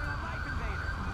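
Police siren from the LSPDFR mod for GTA V, a steady wailing tone heard at a distance under traffic rumble and engine noise.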